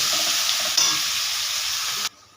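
Onions fry in hot oil left over from frying fish, giving a loud, close, continuous sizzle with a brief stirring clatter before it cuts off abruptly near the end.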